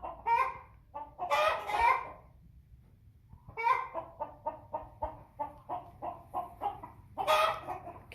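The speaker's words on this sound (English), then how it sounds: "She's not my chattiest hen." An old American Bresse hen clucks in short rhythmic bursts close by, a laid-back bird giving several series of clucks with brief pauses between.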